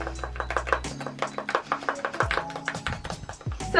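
Blue bleach powder and developer stirred together in a bowl, a rapid series of close, sharp taps and scrapes from the mixing tool, irregular but continuous.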